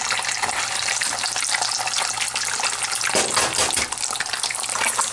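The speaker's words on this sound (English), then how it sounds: "We're technically frying." Sunny side up eggs fry in a pan with a loud, constant sizzle and crackle, close and steady throughout.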